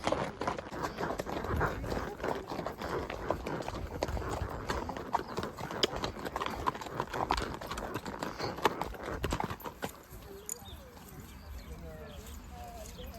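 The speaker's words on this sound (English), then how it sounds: "Welcome to horseback riding in Tuscany." Hooves clip-clop steadily on a horseback ride through Tuscan vineyards, close and rhythmic for about ten seconds with people talking, then fade to quieter ambience.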